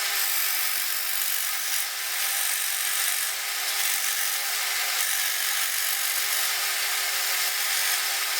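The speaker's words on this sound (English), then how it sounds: "While I've got some jigsaw cuts going on in the background" A Shopsmith jigsaw cuts through scrap wood in a workshop, producing a continuous high buzzing rasp that holds steady throughout with no speech over it.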